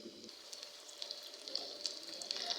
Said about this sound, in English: The frying of melon will take about 2 minutes